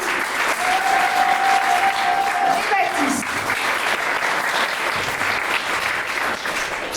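Theatre audience applauding improv actors at a comedy stage show, a steady dense roar of clapping throughout while a presenter speaks over it briefly.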